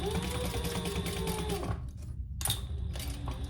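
A sewing machine top stitches fabric on a waist pack with a fast, rhythmic mechanical chatter up close. It stops briefly, then resumes stitching.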